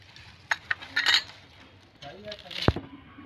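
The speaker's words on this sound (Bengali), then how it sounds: "আমি পালং শাকটা কেটে নেব।" A kitchen knife chops fresh spinach: a few sharp clicks and taps on the board, then one loud, close knock near the end, with quiet gaps between strokes.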